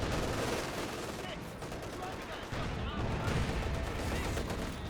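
Battlefield gunfire in Company of Heroes 2, dense rattling bursts and distant explosions under a commentator's continuous talk.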